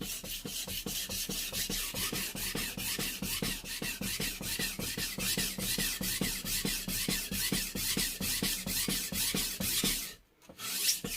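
A knife is drawn over a Japanese whetstone in steady, rhythmic rasping strokes, close and constant, with a brief pause near the end, and no talking.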